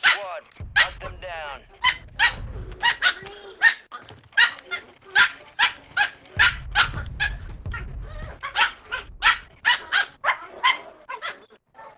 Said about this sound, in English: Man, is that the puppy?